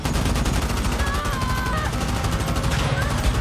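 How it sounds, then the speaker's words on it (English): A bomber's turret gun lets off a sustained burst of gunfire, dense and loud from start to finish, set against a steady roar of aircraft engine noise. "unleashed a burst of gunfire"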